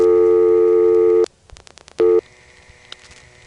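A steady telephone tone on a New York switching system cuts off, a rapid run of dial pulses clicks through, then a short burst of tone returns before a quiet, buzzy line with faint ticks.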